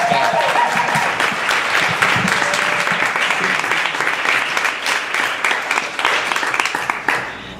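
Audience at a literary anthology reading gives a reader another round of applause, loud continuous clapping from a modest crowd, sustained evenly before thinning out.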